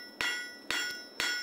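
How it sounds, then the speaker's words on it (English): A hand hammer strikes a steel show horseshoe for heavy horses at an even pace, three sharp ringing blows about half a second apart, each leaving a bright metallic ring that fades before the next. "do the final blows with a hand hammer"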